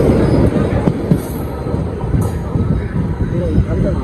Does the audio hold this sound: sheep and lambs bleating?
no